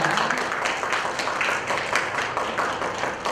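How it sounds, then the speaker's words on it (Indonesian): An audience at a conference applauds for a speaker, dense steady clapping from many hands at moderate volume, with no voices over it. "mari kita beri tepuk tangannya untuk Bapak Tedika Puri Ananda"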